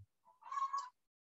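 A neighbour's rooster gives one short, loud crow lasting under a second, heard alone in a quiet room.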